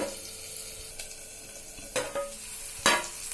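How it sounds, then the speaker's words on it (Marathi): Onion and green chillies sauté over a medium flame, a steady soft sizzle broken by several sharp spatula scrapes and stirs against the pan, near and clear with no talking. "आता हे परतून घेते मी जरा। आता मी कांदा जरा मीडियम फ्लेमवर शिजत ठेवते।"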